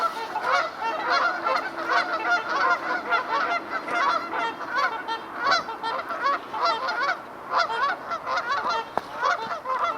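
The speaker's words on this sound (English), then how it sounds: "The geese are letting us know what they think." A flock of geese honking continuously outdoors near water where swans are also present, dense overlapping calls filling the whole stretch at steady, fairly close loudness with no talk.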